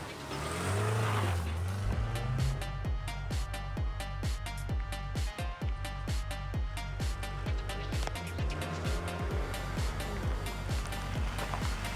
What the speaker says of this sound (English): Let's take it for a test drive and see if it still drives.